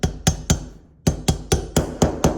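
A hammer drives a valve seal install tool onto a valve seal in a cylinder head during F-body engine prep: nine sharp, loud metallic strikes in a quick, even rhythm, with a short pause after the first three.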